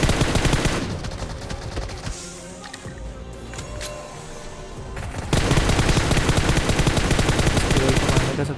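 Automatic gunfire in the PUBG battle royale on the Erangel map, rapid bursts crackling loudly at the start, easing into scattered shots mid-clip, then a dense, sustained volley through the final seconds.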